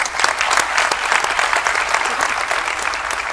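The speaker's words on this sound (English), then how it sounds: "We give her a round of applause." Loud, dense applause from a large audience at a business school graduation ceremony, close and sustained throughout with a rapid patter of many hands clapping.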